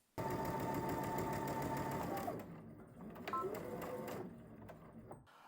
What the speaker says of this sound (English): Let's go ahead and stitch this using a 1/2 inch seam allowance.